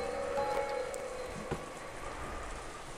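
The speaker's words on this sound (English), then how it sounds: "In the silence, the sound of the rain snuck into the dining hall." Steady rain heard from indoors in a dining hall, a constant soft patter and hiss with one brief knock partway through and no talking.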